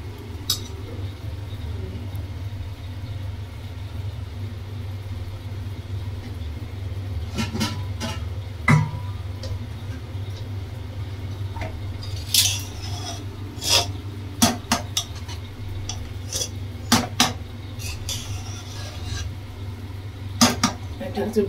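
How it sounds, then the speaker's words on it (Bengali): A spoon works ghee into cooked khichuri in a pot, giving soft rubbing and scraping against the metal with sporadic sharp knocks and clacks that grow more frequent toward the end. "আমি একটুখানি ঘি দেবো, দিয়ে মিলিয়ে নেবো"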